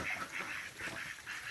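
Ducks on a duck farm quack and honk in a close, lively cluster of repeated calls that carries on without a break.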